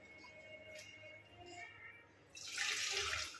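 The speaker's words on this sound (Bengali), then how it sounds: "এই কাপটাও ধুয়ে নিলাম" A cup is rinsed under a running tap, first a quiet trickle with faint clinks, then the water gushes louder and splashes steadily close by.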